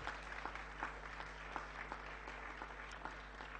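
A youth group at a camp meeting applauds with steady, continuous clapping throughout, moderately distant over a constant low hum in the room.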